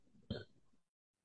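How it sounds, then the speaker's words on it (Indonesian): One short, loud burp from a person during a conversation, followed by a brief low tail and then near silence. "Sorry, saya mau bersendawa dulu."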